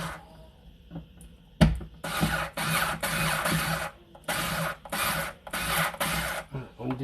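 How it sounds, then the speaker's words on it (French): A part is unscrewed from a dishwasher during a leak repair, with a sharp knock followed by a run of close, rhythmic rasping and scraping strokes separated by short pauses. "on dévisse pour la sortir."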